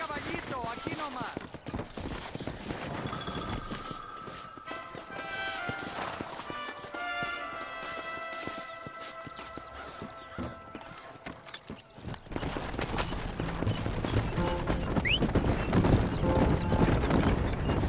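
Horse hooves gallop in the video game Red Dead Redemption, a steady clip-clop running under voices and busy game sound, growing louder and denser near the end.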